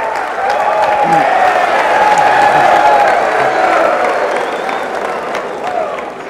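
Audience of Air Force Academy cadets cheering and applauding loudly and steadily, a dense wash of clapping and shouts sustained throughout, with voices mixed in.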